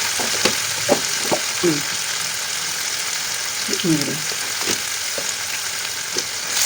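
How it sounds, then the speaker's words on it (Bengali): Chili and turmeric spices fry in a pan with a steady sizzle, broken by scraping stir strokes and a few short clatters. "একটু লঙ্কা দিয়ে এবার আমি ভাজি"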